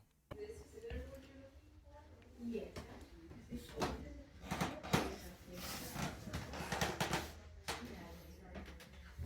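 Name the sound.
creaking wooden stairs underfoot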